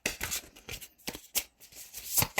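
Tarot cards shuffled and drawn for a card reading, a string of close crisp riffling flutters and slaps in uneven bursts with short pauses between them.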